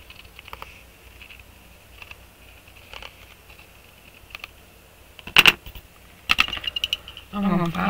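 Paper sheet tags for junk journaling trimmed with a cutter: soft scattered snips and taps, then a couple of sharper, louder cuts near the end, close by in a quiet room.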